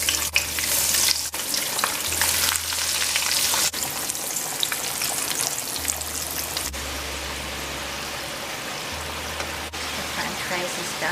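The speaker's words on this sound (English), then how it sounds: "We're going to start to fry the french fries." French fries fry in hot oil with a dense, steady sizzle and crackle that continues for the whole stretch, close and fairly loud, over a low background hum.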